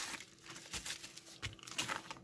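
A paper mail envelope holding a small 4x4 matrix keyboard being torn open and handled, quiet crinkles and short rips up close, with no talk.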